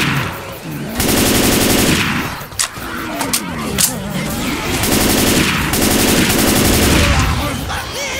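Rapid automatic gunfire bursts from the video game Left 4 Dead 2, loud repeated volleys with brief gaps and scattered single shots, with voices calling out over the shooting.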